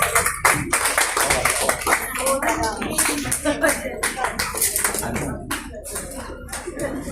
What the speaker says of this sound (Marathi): एका जोरदार टाळ्या होत्या